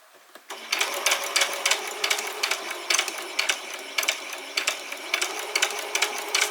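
A sewing machine stitches fabric for a simple dress in short, rapid bursts, its needle clattering rhythmically with brief pauses between runs, close and clear with no talk over it.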